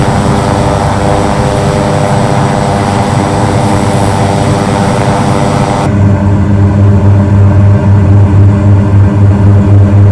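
Twin turboprop engines of a King Air in Microsoft Flight Simulator 2024 hum loud and steady, a layered droning tone that shifts partway through to a deeper, stronger throb with a pulsing low note, continuous and close with no voices.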